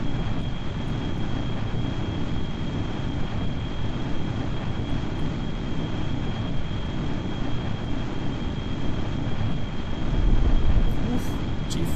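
A space shuttle flying in to land on a runway in Kerbal Space Program, a steady, loud engine roar with a constant whine held throughout, with no talk.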